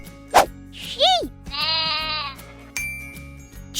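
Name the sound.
sheep bleating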